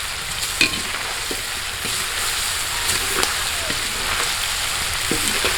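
Pork pieces frying in oil outdoors, a loud, continuous sizzle broken by repeated scraping and clattering as the meat is stirred around the pan.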